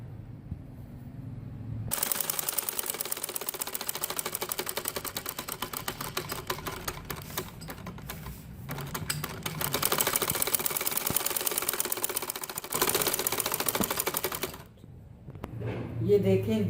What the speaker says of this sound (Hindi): इसी तरह दूसरी साइड से अब यहाँ से सिलाई लगाऊंगी